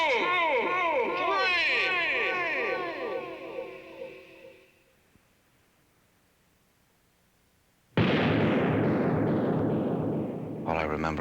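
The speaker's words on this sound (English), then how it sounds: "At the count of 3, we are to turn to fire." A single pistol shot in a duel bursts out suddenly and loudly after a voice and a silent pause, leaving a roaring, noisy tail that fills the last few seconds.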